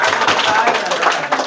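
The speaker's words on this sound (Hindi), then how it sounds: "एक बार जोरदार ताली बजा के दिखाओ" A group of students claps loudly together in a dense, continuous burst of rapid hand claps, close and energetic, with voices mixed underneath.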